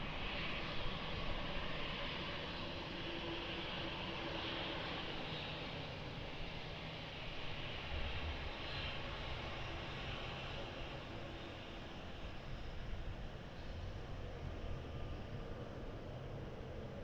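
A plane takes off from runway 20 at Lisbon Airport, its engines giving a steady, broad roar that holds without letup for the whole stretch, heard from some distance.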